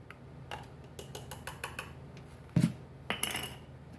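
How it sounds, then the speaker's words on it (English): A metal spoon scrapes and taps against a bowl and jar while heaping minced garlic goes into homemade spicy salsa, a series of light clinks with a sharper knock near the end, close and alone. "Next, I'm going to add 2 tablespoons of minced garlic."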